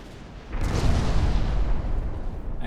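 Naval guns fire in the warship game Ultimate Admiral Dreadnoughts, a heavy deep boom that hits suddenly and rolls on as a sustained rumble, loud and alone without talk.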